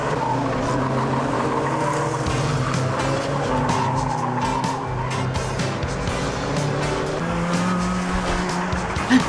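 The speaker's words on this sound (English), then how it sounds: "And they're off! And as they come round the first bend, it's Menace and Diva leading side by side." Race cars speed around a bend, engines whining and shifting pitch as they pass close by, with tires squealing and skidding through the turn over a steady roar.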